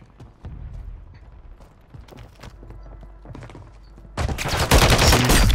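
Gunfire in Call of Duty: Warzone 2: scattered sharp clicks and single shots at first, then a loud, dense burst of rapid shots near the end.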